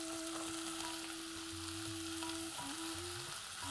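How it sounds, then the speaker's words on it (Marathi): Sweet potato pieces and soaked peanuts sauté in a hot tempering of spices and ginger, giving a steady, close sizzle with soft stirring throughout. "पुन्हा व्यवस्थित त्याला परतून घेऊया, म्हणजे जी फोडणी आहे ती व्यवस्थित रताळ्याला आणि ह्या शेंगदाण्याला लागते."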